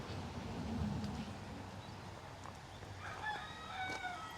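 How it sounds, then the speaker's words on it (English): A rooster on a farm stop along the West Highland Way near Milngavie crows faintly in the distance, with chickens with feathered feet nearby and outdoor background noise. "Chickens back there with hairy feet"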